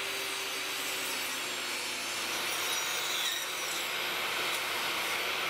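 A table saw trims small wooden watch pieces, giving a steady, fairly faint broadband cutting hiss that holds evenly throughout with no talking.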